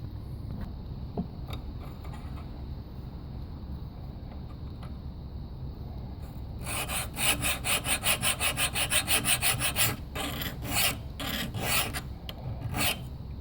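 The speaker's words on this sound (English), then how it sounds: "I'm going to start filing away" Hand file rasping on a metal Ruger 10/22 safety part, starting as faint scratches and then becoming a rapid, loud, rhythmic back-and-forth filing stroke close up for the last several seconds.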